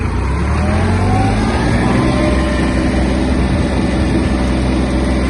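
Yanmar F-155 Japanese four-wheel-drive mini tractor driving at top speed in a high gear, its diesel engine a loud, close, steady drone with constant low throbbing and no voices.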